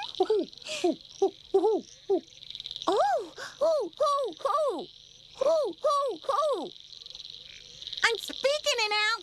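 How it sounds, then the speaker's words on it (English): An owl in an animated children's story gives a string of short, bright hoots in uneven groups, with a steady insect-like buzz running underneath throughout. "I'm speaking an owl to my owl pal, Lolly."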